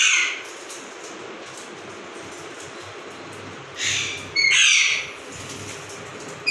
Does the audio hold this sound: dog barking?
no